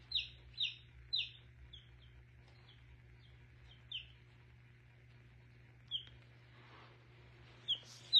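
Young chicks peep in short, high, chirping bursts, a few spaced calls then pauses, quiet and close over a steady low electrical hum.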